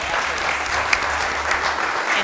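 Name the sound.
audience applause in courtroom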